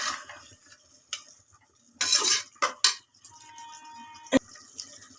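Chicken fries in oil in a pressure cooker for biryani while being stirred. Faint sizzling sits under loud metal scrapes and clanks of a spoon against the pot, with one sharp knock near the end.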